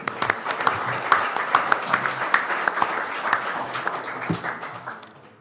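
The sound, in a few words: audience applause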